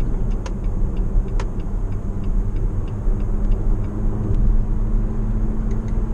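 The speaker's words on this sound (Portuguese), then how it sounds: "o carro já tem um barulho original bem grave" Jeep Compass Limited 2.0 with its original exhaust, a deep steady idle rumble heard up close, low and continuous with faint clicking ticks above it.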